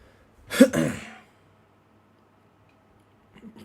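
A single short cough from a person during a live stream of Sonic Frontiers gameplay, near and fairly loud, followed by quiet.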